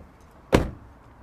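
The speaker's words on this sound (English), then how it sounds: "I must close the door on the fake invite" A single solid thud of a door shutting, sharp and close, with a short decay in an otherwise quiet outdoor setting.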